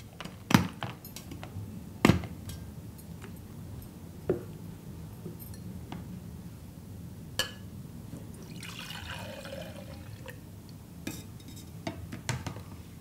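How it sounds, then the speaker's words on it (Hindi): Milk being poured from a glass into a shaker in a kitchen, giving a soft trickling, gurgling fill with a few clinks of glass and plastic, close and quiet, with no voices. "अब हम इस दूध को शेकर में डालेंगे"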